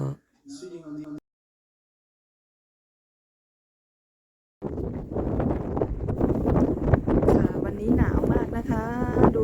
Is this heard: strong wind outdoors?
yes